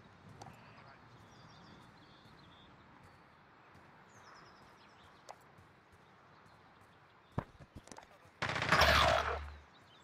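Gunfire in Call of Duty Modern Warfare Search and Destroy: a few sharp isolated shots over quiet game ambience, then a loud close burst of automatic fire near the end.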